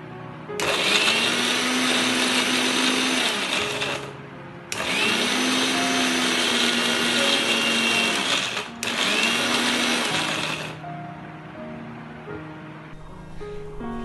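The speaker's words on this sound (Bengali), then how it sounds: "এবারে আমি মিক্সির জারের ঢাকাটা আটকে দিচ্ছি এবং এটাকে স্মুথ একটা পেস্ট বানিয়ে নিচ্ছি" Mixer grinder blending soaked cashews with water into a smooth paste: three loud, close whirring runs of the motor separated by short pauses, then quieter handling noises at the end.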